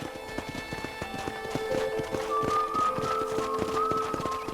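Horse hooves clip-clop at a steady trotting rhythm in the Western video game Red Dead Redemption, close and clear with a faint tonal game sound underneath and no talking.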